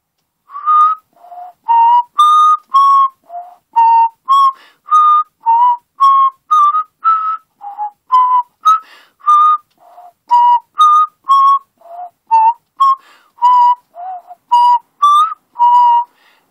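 Someone whistles a bright, bouncy melody alone, a steady string of short clear notes rising and falling in a lively rhythm.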